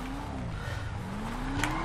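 A Cummins diesel truck engine with a new exhaust drones and revs steadily in the video game GTA 5, its pitch rising and falling, with a loud mechanical hum throughout.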